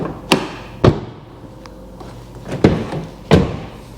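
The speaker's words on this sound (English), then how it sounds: "Door's shut great." A car door on a repaired salvage car shuts with a sharp thud, followed by several more similar thumps spaced a second or so apart, close and clear in a quiet setting.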